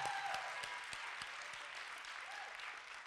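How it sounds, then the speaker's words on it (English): A seated audience at a talk gives a speaker a round of applause, a quiet, even wash of many hands clapping at a distance for about three seconds, with a faint voice briefly audible. "one more round of applause for Vicky"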